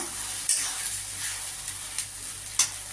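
A paste of ginger, garlic, onion and green chili fries in a pan for chicken curry, giving a steady bright sizzle broken by a few sharp clinks and scrapes from stirring, close and with no talk.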